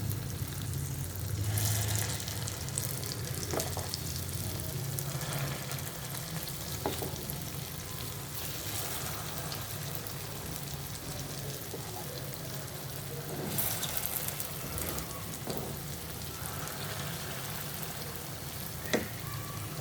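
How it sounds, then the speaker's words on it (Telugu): Dosa batter fries and puffs up in a pan over high heat, a steady close sizzle with faint bubbling and a few soft scrapes, no voices. "పొంగుతున్నాయి, వేగుతున్నాయి కదా, చూసారా పైకి లేస్తున్నాయి, పొంగుతున్నాయి."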